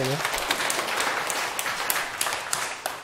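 Audience applause at a Korean lecture hall talk, a dense steady burst of many hands clapping close by for about three seconds, with no speech over it.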